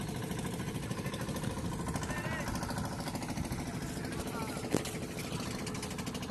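A small boat carries people across a cut in a river embankment, its mid-pitched engine idling steadily and close by throughout, with a faint clunk near the end.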